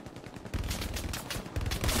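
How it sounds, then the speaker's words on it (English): MG42 machine gun fire in a video game battle rattles in dense bursts of rapid shots, loud and close, one burst running into the next over a short stretch of combat noise. "Oh, MG42!"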